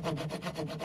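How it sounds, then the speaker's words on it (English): A handsaw cuts vertical depth slots into wood, its steady back-and-forth rasping strokes repeating in an even rhythm, close and fairly soft. "Then use a handsaw just to cut vertical depth slots."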